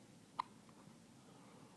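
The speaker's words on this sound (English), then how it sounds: "You got the hiccups?" A baby lets out a single soft hiccup, brief and faint against quiet room hiss.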